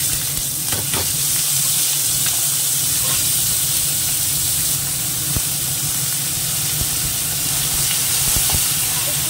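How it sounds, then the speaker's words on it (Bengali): Green peas fry in a pan with dried red chili and cumin, giving a loud, continuous sizzle and hiss with occasional stirring clatter close by, with no talking. "একটু ভেজে নাড়িয়ে নেবো"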